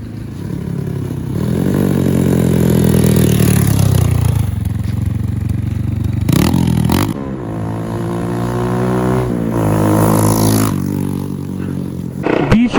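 Motorcycle fitted with a Yoshimura USA slip-on exhaust riding over rough, bad roads, the engine droning loudly with swells of revving and a few abrupt clattering bumps, close and continuous.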